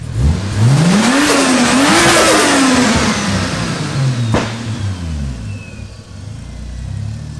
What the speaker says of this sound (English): Give her another little rev.